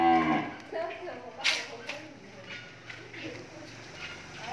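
Cattle moo at a breeding farm, with one loud low call at the start over steady barn noise and a hum in the background.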